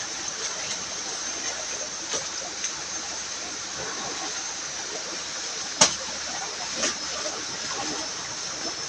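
Steady rushing of a river flowing close by in the countryside, a constant bright hiss with occasional small splashes and clicks, no talking.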